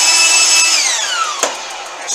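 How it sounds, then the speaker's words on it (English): A drill press motor whines steadily at close range, then its pitch slides downward as it spins down, with a short knock near the end. "I really like this drill press."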